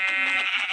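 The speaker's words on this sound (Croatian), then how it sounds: "Ovca!" A sheep in the video game Minecraft gives a single short, close bleat with a clear, tonal quality.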